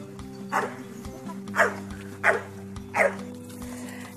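A dog barks four times at a steady pace, moderately close, over a low background hum.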